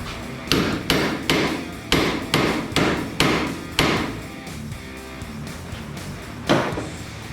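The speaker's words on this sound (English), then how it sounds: "Now we'll tap it some more with the hammer." A hammer taps on a part of a Camaro race car, about eight sharp, evenly spaced metallic strikes close by, then a pause and one final blow, with no talking.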